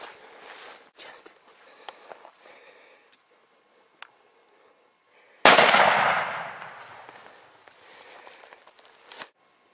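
A rifle shot fired at a wildebeest bull during an African safari hunt cracks out loud and close, ringing into a long decaying rumble after quieter rustling and footsteps in the brush.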